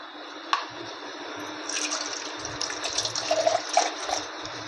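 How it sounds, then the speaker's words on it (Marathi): Water runs and splashes steadily into a cooking pot holding prawns and potatoes, with a few small drips and clinks of metal scattered through the pour. "अजून थोडं पाणी घालणार कारण बटाटा शिजायचा आहे ना"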